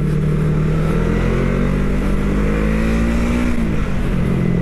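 An FKM Falcon X400 motorcycle engine on a test ride hums loud and steady, its pitch climbing gradually before a brief drop near the end, like a shift between gears.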